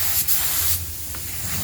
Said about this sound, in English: No power, and we're spraying without power.